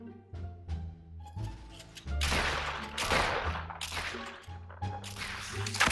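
Fortnite gunfire cracks in quick bursts and single sharp shots alongside heavier blasts and crashing impacts, loud and irregular, with game music tones between them.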